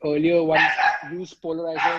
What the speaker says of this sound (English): that's my dog going mad